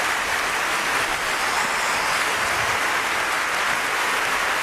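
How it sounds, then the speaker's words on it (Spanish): Studio audience clapping for the Racing de Santander football club on a Spanish sports talk show, a steady, even wash of applause held at constant volume throughout with no talk over it. "esos aplausos para el Racing de Santander"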